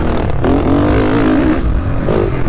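A YCF dirt bike rolls at low revs in third gear, then its engine pulls and climbs in pitch as it accelerates, loud and close, with a second brief rise near the end.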